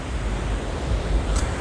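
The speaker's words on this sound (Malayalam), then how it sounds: "അത് കടലിലെ തിരമാല" Sea waves roll in at night on a beach in Goa, a steady broadband wash of surf with low rumbling swells and no voices.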